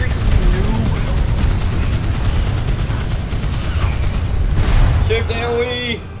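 An M60 machine gun in Magicka rattles off a fast, steady stream of shots for several seconds, loud and close, with a voice talking over the firing near the end.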